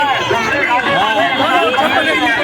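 Thick crowd noise fills the streets of Varanasi on Maghi Purnima, overlapping chatter and voices all around with louder talk close by, continuous and busy throughout.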